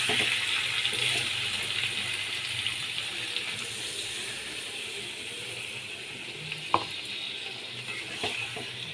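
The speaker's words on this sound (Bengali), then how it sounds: "এবার আমি 1 বাটি জল এর মধ্যে দিয়ে দিচ্ছি" A bowl of water is poured into a pot of aloo dum curry with a soft, continuous watery rush, faint and close, ending with a couple of small clinks.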